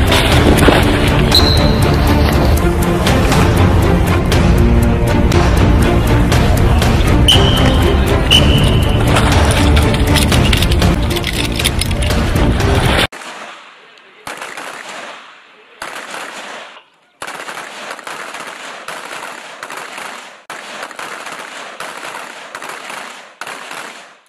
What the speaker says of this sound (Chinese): 射击训练，我们连队的传家宝一样，涌现出了很多的神枪手、射击能手。